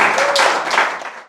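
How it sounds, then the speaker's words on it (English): Audience applause: a short burst of clapping from a crowd that fades out quickly, with no talking. "Can we have a round of applause for him?"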